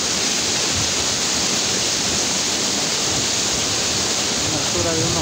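The El Barro waterfall in Yuscarán, Honduras, about 80 metres high, roars in a dense, unbroken wash of rushing water, loud and close, with no pauses.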